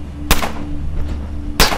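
Two sharp single gunshots in the turn-based game Underrail, about a second and a half apart, loud and close over a low steady hum.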